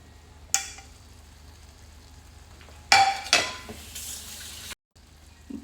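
Potatoes dropped into a pan with garlic chutney and stirred, two loud splashing bursts of contact followed by sizzling and scraping, close by with a low steady hum underneath.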